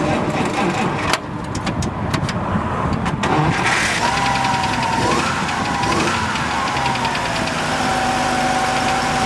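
A 1950 Dodge pilot house dually pickup's Hurricane straight-six with a single downdraft carb cranks with a few rough bursts, then catches and settles into a steady idle. A voice is briefly heard during the start.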